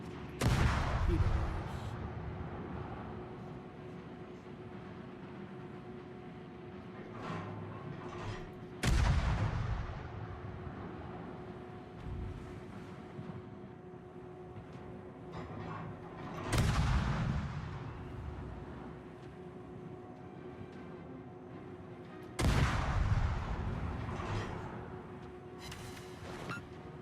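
Heavy cruiser guns fire in a naval warship video game, four booming salvos spaced several seconds apart, each with a long rolling decay over a steady engine hum.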